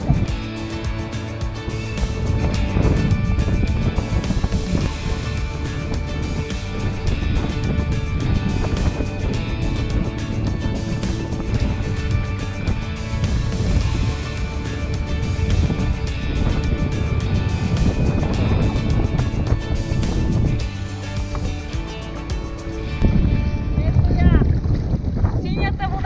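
Wind buffeting the microphone and waves slapping around a sea kayak off Corsica, a constant, loud, rough roar with occasional sloshing surges and tonal hum throughout.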